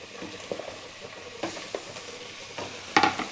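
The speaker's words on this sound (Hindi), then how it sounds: "We'll cook it for 3 to 4 minutes." Chicken cooks in a pan for a white gravy, sizzling under intermittent stirring and scraping that comes in several distinct bursts, with a sharper clatter near the end.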